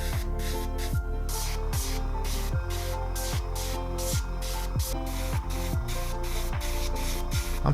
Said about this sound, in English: And then into the airbrush and start spraying.